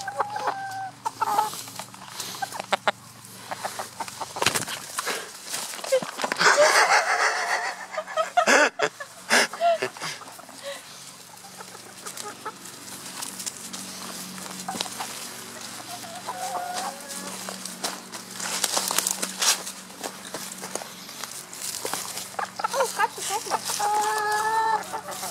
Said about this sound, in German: Bertha ist gerade hochgeflogen nach dem Hühnchen